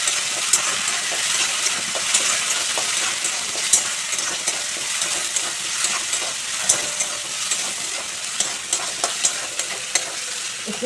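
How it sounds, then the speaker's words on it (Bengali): Garlic and ginger paste fries in a pan with chopped greens and coconut, a continuous bright sizzle broken by frequent light clicks and scrapes as it is stirred. "সব কিছু ভালো করে 1 মিনিট নাড়াচাড়া করে নিচ্ছি।"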